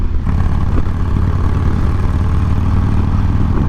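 A motorcycle engine throbs steadily through a quick power wheelie, a close mid-to-low growl with a pulsing texture that holds fairly even throughout.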